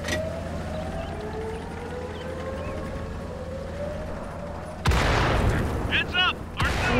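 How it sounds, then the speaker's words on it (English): A video-game battle: a rising and falling siren wails steadily throughout, then heavy artillery blasts erupt loudly near the end, with voices calling out over the din. "Heads up! Artillery!"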